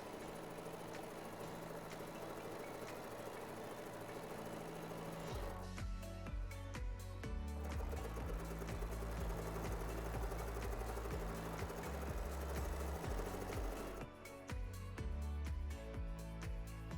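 Sewing machine stitching free-motion quilting, a steady mechanical hum that turns into rapid rhythmic needle chatter in bursts.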